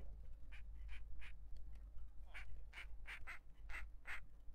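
Video game duck quacks, about ten short nasal calls in uneven clusters, clear and alone over a quiet low hum.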